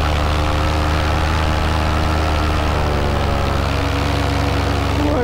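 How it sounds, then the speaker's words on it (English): A brand new paramotor engine runs steadily through its break-in flight, a loud continuous low drone with a constant throbbing hum that holds close and unbroken throughout. "varying the RPMs and stress on the motor."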